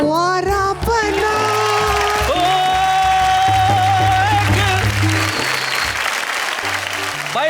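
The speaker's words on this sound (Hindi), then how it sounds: "बड़ी खुश होकर तालियां बजा रही थी" A studio audience claps steadily and loudly after a comic parody song at a Hindi poetry and humour show, with a few cheers and music chords running underneath the applause.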